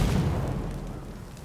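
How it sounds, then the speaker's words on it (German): Lamp oil blowing up in the Warhammer Vermintide 2 video game: a single loud boom up front that rumbles and fades over about a second. "Haben wir Lampenöl, das können wir halt explodieren lassen."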